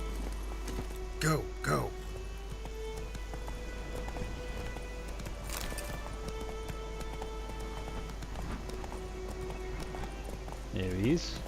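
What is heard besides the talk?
horse Roach galloping in video game Witcher 3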